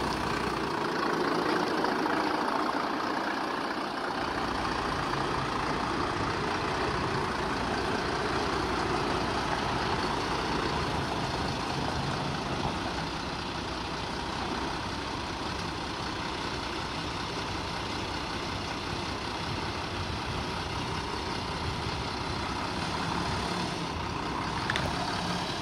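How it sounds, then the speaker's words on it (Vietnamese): An Iseki 8010 tractor engine idling smoothly at a market, a steady low diesel rumble that holds evenly throughout, close and continuous with no voices. "Động cơ nổ rất là êm nha."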